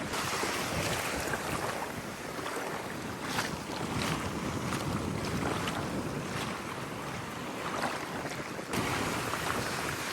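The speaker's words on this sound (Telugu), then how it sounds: "చూడండి, అలలు పెద్దగా రావడం మొదలైపోయినాయి కదా." Sea waves surge and wash in a broad, steady roar with wind buffeting the microphone, rising in bursts as the swell grows, with no talking.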